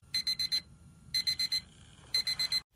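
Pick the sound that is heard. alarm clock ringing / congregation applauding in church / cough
alarm clock ringing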